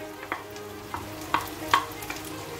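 Carrot goes into a hot pot of lamb and gets stirred, giving a few soft scraping and clattering stir strokes at a steady pace over a faint background hiss, close by and fairly quiet, with no talking.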